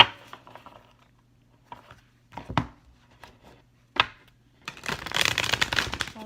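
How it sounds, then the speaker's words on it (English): Tarot cards are shuffled three times in a row, starting with a few quiet separate riffles and slaps, then a dense, fairly close fluttering burst of cards over the last second and a half. "I'll do 3 shuffles as one."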